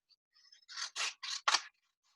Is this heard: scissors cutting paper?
yes